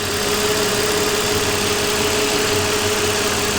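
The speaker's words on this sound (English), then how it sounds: "It's because the car is turned on." A car engine idles with the vehicle switched on, a steady, loud, close rumble with constant hum and no change in pace, and no voices.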